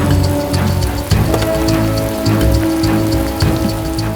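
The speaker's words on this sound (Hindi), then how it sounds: "जोरों की बारिश हो रही थी।" Heavy rain pours steadily, a dense hiss of drops drumming on surfaces with occasional louder splashes, no voices.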